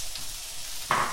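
Onions fry in a pan for a vegan breakfast scramble, a soft steady sizzle that brightens into a louder hiss near the end, close by and without talk.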